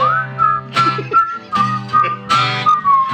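A woman whistles a bright, wavering melody, loud and close, with steady tones and short phrases over a faint low background.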